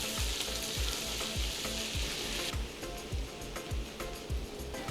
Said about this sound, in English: we're gonna add the chili flakes and garlic. We're gonna saute this for about 30 seconds